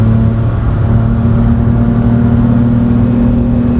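A GT3 car laps the Nürburgring circuit, heard from inside the cabin as a loud, steady engine drone with a strong low hum and road roar, continuous and close.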